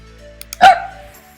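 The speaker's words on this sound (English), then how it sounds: "puppy bark is what we just saved" A single short puppy bark sound effect from a software sound library rings out once near the middle, loud and clear against a quiet background with faint clicks before it.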